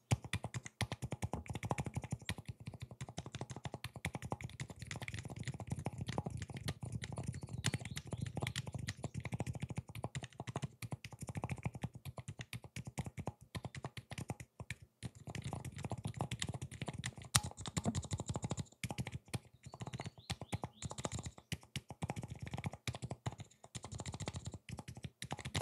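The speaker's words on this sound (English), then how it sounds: "here are the Plum Blossoms. These are silent switches" Continuous typing on a keyboard fitted with Plum Blossom silent switches gives a soft, muffled, dense patter of quick keystrokes with no voices.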